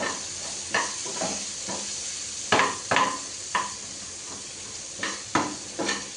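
Breakfast frying in a home pan is stirred with a utensil held at arm's length, a steady sizzling hiss broken by irregular scraping clinks of the spoon against the pan, close and clear.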